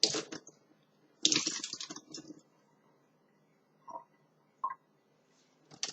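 Wet dyed wool yarn squeezed by hand gives squishy, dripping bursts of water, two longer squelches and a few short drips and squeezes, close and alone in a quiet room.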